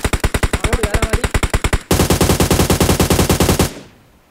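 Rapid automatic gunfire in PUBG Mobile, loud and close: a fast, evenly spaced burst of shots, a brief break, then a second, denser burst that ends and fades out, with no talking.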